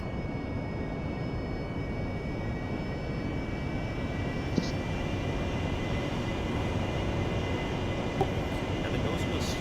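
An aircraft engine roars steadily on the runway as it begins a takeoff from mid-strip, with a constant loud broadband drone and a faint high whine running through it throughout.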